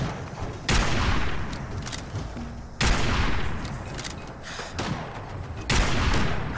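Heavy gunfire in Fallout 4, three loud booming shots spaced a couple of seconds apart, each with a long rumbling tail, over a dense battle background.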